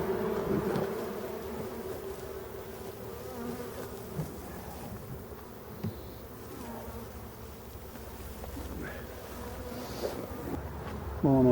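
Honeybees buzz and seethe inside a shaken hive, a dense continuous hum at moderate level with faint wind noise and occasional bumps, close to the hive.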